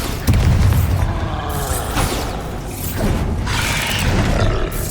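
A Bombarda spell explosion in the video game Hogwarts Legacy, heard as heavy, loud booming blasts with roaring rumble that swell and recur over several seconds amid battle noise.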